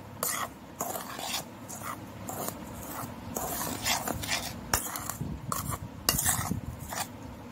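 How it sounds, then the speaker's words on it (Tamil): Rava, cashews, raisins and grated coconut being stirred together in a bowl for rava laddu, with soft repeated scraping and clinking of a spoon against the bowl close by, in irregular strokes. "இப்போ நம்ம இதை நல்லா மிக்ஸ் பண்ணிக்கலாம்"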